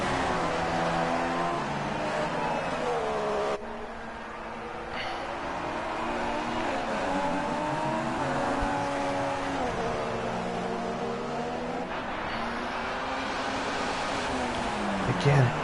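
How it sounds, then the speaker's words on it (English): A GP2 race car engine in the F1 2016 video game revs hard in 3rd gear through a run of corners at the Spain circuit, a continuous loud, buzzing whine whose pitch rises and dips with the throttle. "you can just hear him revving that engine in 3rd gear through turns 10, 11, 12"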